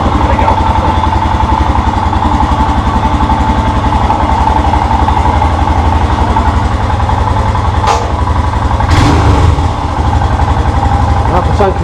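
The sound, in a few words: Royal Enfield Himalayan motorcycle engine running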